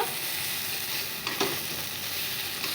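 Vegetable stems frying with spices in a pan make a continuous sizzle, with a couple of brief scraping stirs partway through and no voices.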